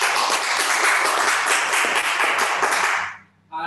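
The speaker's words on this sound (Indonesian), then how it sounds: "Tepuk tangan untuk kita semua." Applause from a virtual national gathering of Pos Indonesia staff, dense and steady for about three seconds before fading out, with a short burst returning at the end.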